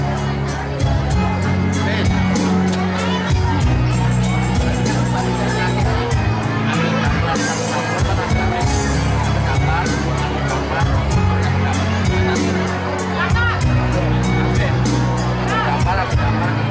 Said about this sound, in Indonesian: kasih aplaus yang meriah buat peserta dengan nomor undian